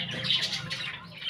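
A pet bird in a home aviary gives a few harsh, close squawks in quick succession, fairly faint against a quiet background.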